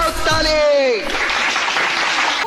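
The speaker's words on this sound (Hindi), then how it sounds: "बजाओ ताली।" A voice with a drawn-out, falling inflection opens the moment at a political rally or public gathering, then crowd applause rises and continues dense and loud for the remaining second and a half.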